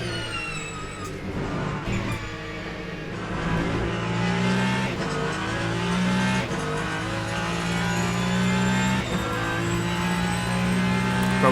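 Hypercars race in Le Mans Ultimate, a loud continuous engine whine rising and shifting in pitch as the cars accelerate and chase two Toyotas, with no talking over it.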